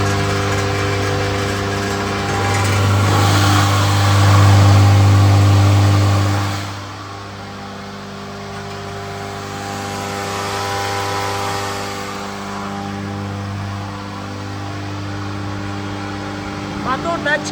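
A Chinese feed grinder-crusher machine runs with a steady mechanical hum that is louder at first and then settles to a lower, continuous drone.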